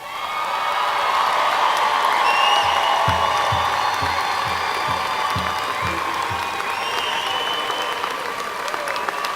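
A large commencement ceremony audience breaks into dense, sustained applause with cheering, a loud, even wash of clapping that holds for the whole stretch, with a few low thumps pulsing underneath midway.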